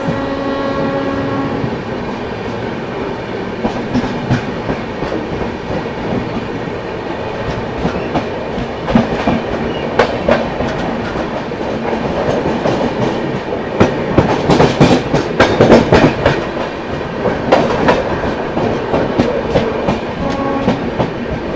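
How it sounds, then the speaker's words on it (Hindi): The Anand Vihar Terminal–Jaynagar Garib Rath Express rushes past close by, skipping Prayagraj Junction, with loud continuous rumble and rhythmic clickety-clack of wheels on rail joints, swelling as the coaches go by. "ये गई गरीब रथ एक्सप्रेस"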